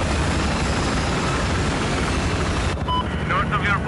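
A Battlefield 4 helicopter roars loud and steady with dense rotor and engine rumble throughout, and a brief electronic tone and faint voice come in near the end.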